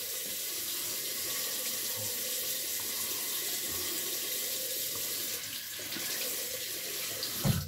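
A tap runs steadily into a sink as shaving foam is rinsed off hands, a constant close hiss of water with a brief splash near the end and no talk.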